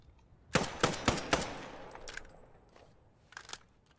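German Wehrmacht weapon firing in Post Scriptum, a quick burst of four sharp shots followed by a single shot and a later pair, each with a trailing echo, close and loud.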